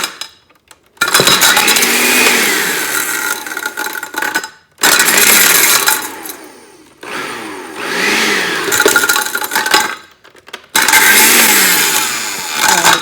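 A blender grinds an iPhone 5s in loud, motor-driven bursts: four long runs of whirring, rattling churning with pitch rising and falling, separated by brief silent pauses.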